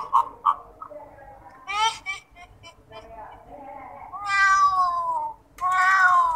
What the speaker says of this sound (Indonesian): maka saya tambah suara kucingnya